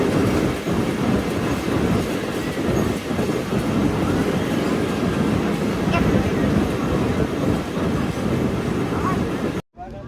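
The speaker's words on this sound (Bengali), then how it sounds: "আর আমাদের ট্রেনটি এখন গোপালগঞ্জ জেলার মহেশপুর রেল স্টেশনে প্রবেশ করছে।" Ovijatri Commuter train rolling into Moheshpur railway station in Gopalganj: loud, close rumble with steady wheel clatter and rattling carriages throughout, ending in a sudden cutoff.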